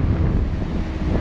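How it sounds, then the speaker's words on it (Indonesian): Strong wind buffets a hand-covered microphone outdoors near Mount Semeru after its eruption, giving a loud, continuous low rumble with uneven gusting surges and no voices. "Anginnya cukup kencang ini, mic-nya ini saya tutupi pakai tangan."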